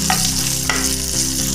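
Green chillies lightly roasting in a pan for a chutney give a steady close sizzle, with a few brief stirring scrapes and clinks over it.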